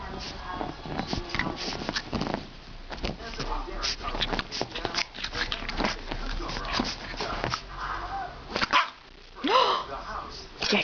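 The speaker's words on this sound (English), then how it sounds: "That's naughty to bark like that." A dog barks repeatedly indoors in short sharp bursts mixed with yips and whimpers, close and fairly loud, while a person talks to it between barks.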